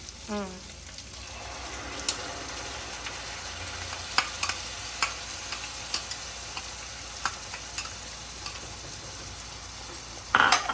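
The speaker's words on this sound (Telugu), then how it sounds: "ఇప్పుడు ఇది వేగిపోతుంది కదా నేను పాలకూర పేస్ట్ వేస్తున్నాను" Spinach paste sizzles in a pan as a spoon stirs it, giving a steady frying hiss broken by scraping scrapes and light clinks against the pan. Brief rattling comes at the end, with no talking.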